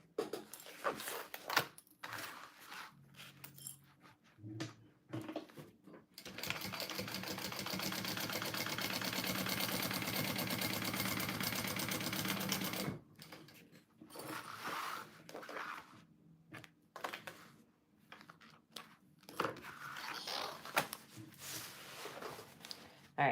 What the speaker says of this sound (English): I am going to have to sew down the sides from the back because it's at that slant.